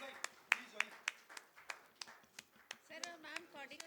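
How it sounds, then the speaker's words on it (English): Scattered hand claps pop at a steady pace, sounding like a small crowd applauding, with voices talking faintly underneath. "a big round of applause"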